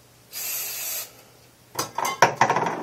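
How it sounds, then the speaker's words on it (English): Aerosol hairspray misted onto a section of hair during stage hair styling: one steady, close hiss lasting under a second, followed by light clattering and clinking as things are handled. "spray both sides of my section with hairspray"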